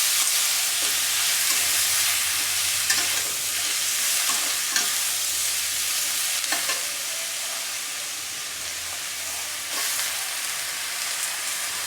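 Malabar spinach and potato fry in garlic oil with browned onion, a steady close sizzle running through with occasional scraping stirs and no talk.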